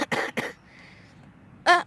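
A person coughs in short harsh bursts, two quick close coughs and then a final louder one after a brief quiet gap, heard alone without talk.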